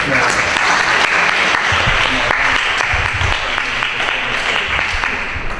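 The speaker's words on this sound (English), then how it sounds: "I hope you're still clapping at the end" Dense, sustained applause from a large audience, steady clapping filling the whole stretch without letup.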